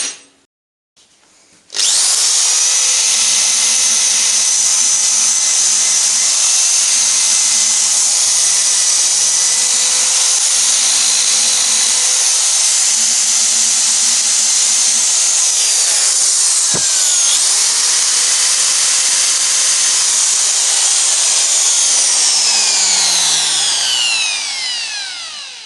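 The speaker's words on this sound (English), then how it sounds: "maybe I'll wire brush this first" A powered wire brush, likely on a die grinder, scours a sooty cast iron exhaust manifold with a loud, continuous high whine and harsh scratching that runs steadily close up.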